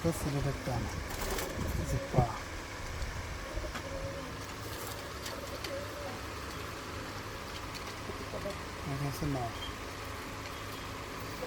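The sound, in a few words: pigeons cooing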